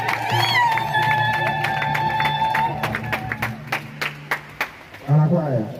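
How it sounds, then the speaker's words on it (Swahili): A church congregation gathered for a bishop's grotto inauguration breaks into loud, scattered clapping that builds near the end, following a sung or held tone and mixed with voices. "Tumshangilie Mungu kwa makofi."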